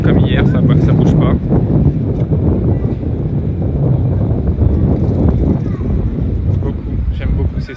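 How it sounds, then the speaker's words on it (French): Wind buffeting a microphone in the streets of Monaco, a loud continuous rumbling roar through the whole stretch with gusty swells, while people talk over it. "Il y a un peu de vent comme hier, ça bouge pas."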